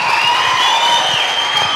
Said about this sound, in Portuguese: Aplauda, mais forte,